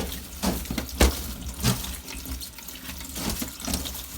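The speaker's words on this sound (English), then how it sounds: "we're just gonna wash the broccoli. Wash it with my food strainer." Broccoli washed in a food strainer under a running kitchen tap, loud splashing water with uneven bursts and thumps as the florets shift, with no voices.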